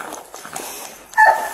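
An LAPD SWAT K9 police dog whimpers and yips in short bursts during a deployment, with a sharper cry near the end over tense background noise.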